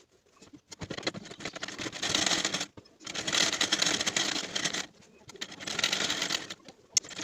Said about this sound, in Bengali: এবার নিচের ফোর্থ পার্টটা স্টিচ করে নেব।